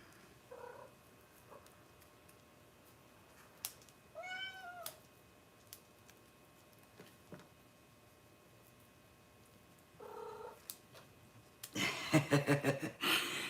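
A pet cat named Moon gives a few short, soft meows spread across a quiet room, with a louder burst of rustling or purring near the end.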